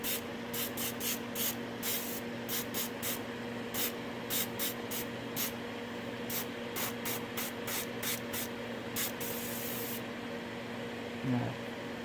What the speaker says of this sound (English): We're just going to do a heavy coat on the whole thing.